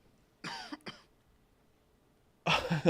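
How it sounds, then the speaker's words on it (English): Two short coughs close together, then a louder burst of coughing after a pause of quiet. "Okay, Meek's coughing."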